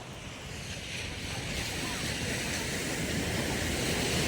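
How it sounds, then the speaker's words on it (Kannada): Ocean waves wash steadily onto a beach in Chennai, a continuous broadband roar that swells slightly louder toward the end, with wind buffeting the microphone. "ಅಲೆಗಳು ಸದ್ದು ಕೇಳಿಸ್ಕೊಳ್ಳಿ."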